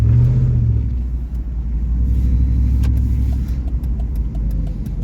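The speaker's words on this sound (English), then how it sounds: "we're gonna give her a good flooring. Hear how she sounds." Dakota pickup truck with its newly finished exhaust floored at full throttle, a loud, close, deep rumble that swells and holds throughout, with no talking over it.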